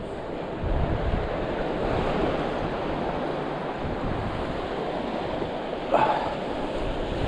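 Rising water and waves wash in at a cold shoreline, a steady broad surf rush with wind buffeting the microphone throughout, a slightly louder splash near the end.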